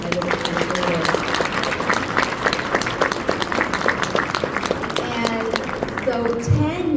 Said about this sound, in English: If you all can help me give everybody a warm round of applause again